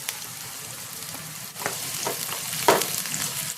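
Chopped onion, ginger and garlic sizzle steadily in a hot pan, a soft continuous frying hiss with a few louder stirring scrapes near the end, no talking.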